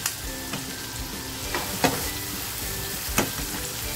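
Spices and turmeric sizzle steadily in hot oil for a moong dal amti, with a continuous frying crackle and a few sharper stirring clinks, close and moderately loud, no talking.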